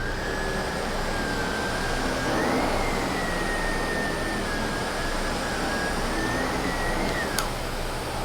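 A SEBO K3 canister vacuum cleaner runs steadily at about one metre, giving a constant airy roar with a thin high whine that rises slightly partway through and holds until a brief click near the end.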